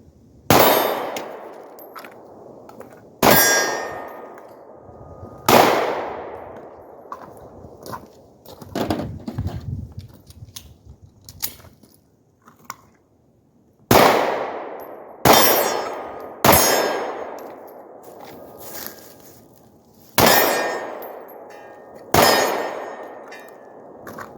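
Pistol shots from a Glock 43 ring out as sharp, loud cracks, each followed by a metallic ring off steel targets, fired in spaced bursts of two or three with a brief quieter patch in the middle.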